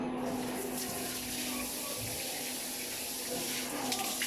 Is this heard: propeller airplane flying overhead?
no